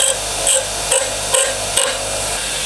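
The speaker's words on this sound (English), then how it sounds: "It's got a little sharp bit sticking up there, so I'm just going to finish this on the grinder, get it nice and flat." A bench grinder flattening the sharp cut end of a bicycle brake cable: a loud, continuous high-pitched grinding whine with about five short rhythmic surges as the cable end is pressed to the wheel.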